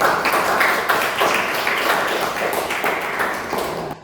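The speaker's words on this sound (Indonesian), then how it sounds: "Beri tepuk tangan yang meriah" Seminar audience gives lively applause to a speaker on personal branding, steady dense clapping from a room full of people that lasts several seconds before trailing off.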